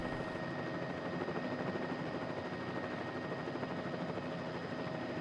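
Bell 206L3 helicopter idling on the ground at Van Nuys, holding short of the runway in Microsoft Flight Simulator 2020: a steady turbine whine with a constant rotor hum, fairly quiet and unchanging, no voices present.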